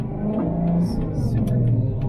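A tuned car engine fitted with a phase lock revs up toward 3,500 RPM, a steady loud motor drone filling the clip, heard from inside the car.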